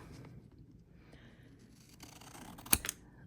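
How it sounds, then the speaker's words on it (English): Scissors cutting fabric for a sewing project, a gift card holder: faint rustling handling, then two sharp, crisp snips close by near the end. "Let's do scissors, okay?"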